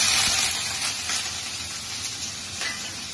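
Chopped onion and green chilli sizzle in hot oil in a home kitchen pan, a steady, loud, crackling hiss that runs throughout with no voices.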